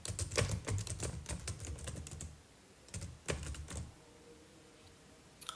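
Quick runs of taps on a tablet's on-screen keyboard as a quiz title is entered in Keynote, coming in two bursts with a pause between, close and clear with no voices.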